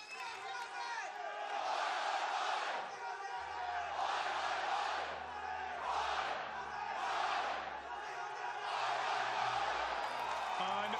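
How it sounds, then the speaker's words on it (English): A large crowd cheers and chants in rolling waves at the Overwatch World Cup 2017 Sydney qualifiers, a roaring hall-filling din with rhythmic swells, while a commentator talks over it. "What a crowd we've had here."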